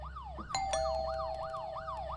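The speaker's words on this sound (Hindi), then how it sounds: "ए भाई पुलिस की गाड़ी आ गई" A police car siren in the video game Fears to Fathom wails, rising and falling in steady repeating sweeps, with a low engine rumble underneath and a couple of sharp clicks near the start.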